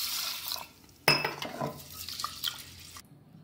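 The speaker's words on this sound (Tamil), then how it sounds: "இப்போ பாசிப்பருப்பை குக்கரில் போட்டு நல்லா ரெண்டு தடவை அலசிட்டு" Moong dal being rinsed in water inside a pressure cooker: sloshing, swishing water with a sudden clatter against the metal pot partway through, close and moderately loud, then a brief quiet at the end.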